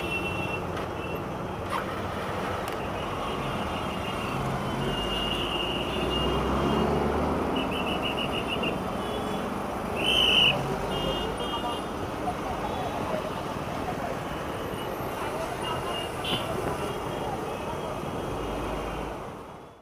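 A dense Mumbai traffic jam rumbles continuously at close range, with several short horn honks sounding from different vehicles, loudest around the middle, while a voice talks over the din.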